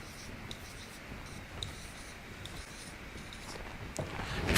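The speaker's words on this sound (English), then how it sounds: "I can write it here" Pen or pencil scratching across paper in steady, faint strokes during a spiritual lecture, with a soft room hiss and a few small knocks, rising slightly toward the end.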